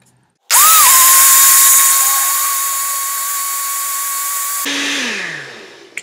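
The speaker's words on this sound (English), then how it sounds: "And you put the blender lid on, turn it on, put it on the highest setting for about 10-15 seconds." A blender on its highest setting whirs through a raw vegan smoothie, starting abruptly into a loud, steady high-pitched motor whine that holds for about four seconds before cutting off and winding down.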